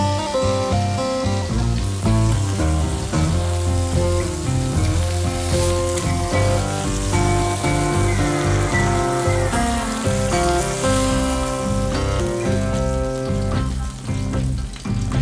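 A Scotch fillet steak sizzles in a hot pan with its juices rising, a loud, dense, continuous frying hiss that holds steady throughout with no voices.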